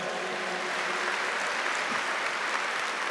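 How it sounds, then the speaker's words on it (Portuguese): A crowd applauds Priscila at a Catholic Canção Nova gathering: dense, steady clapping from many hands, fairly loud and unbroken for about three seconds, with no voices rising above it. "Vamos dar uma salva de palmas para ela."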